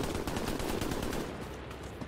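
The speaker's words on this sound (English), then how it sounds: "Oh, someone's shooting through me from behind." Gunfire in the World War II shooter Hell Let Loose comes as a rapid, close burst of automatic shots that fades out after about a second.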